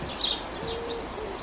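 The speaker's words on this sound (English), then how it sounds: "There are lots of birds coming into gardens now, and you can hear them singing everywhere." Birds sing in a garden: short, high chirps and whistles, a few separate calls close by over a low steady background, with no voices.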